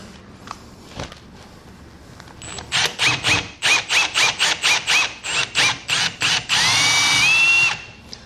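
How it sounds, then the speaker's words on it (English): A power drill bores lag-bolt holes into solid wood behind drywall while mounting a Bestop HOSS hardtop hoist for a Jeep Wrangler, in a run of loud, whining bursts that stop and start in quick succession, then one longer sustained drilling. "But I'm gonna drill these out."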